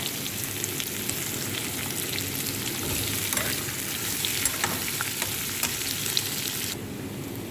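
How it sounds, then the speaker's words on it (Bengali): Onion and garlic fry in hot oil, a steady dense sizzle that runs close and loud throughout, with scattered crackles and pops and a brief easing near the end. "তো আমার পেঁয়াজটা ভাজা ভাজা হয়ে গেছে।"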